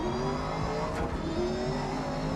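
Race car engines roar steadily in the GRID Legends racing game, a continuous loud drone with shifting pitch as the cars run at speed.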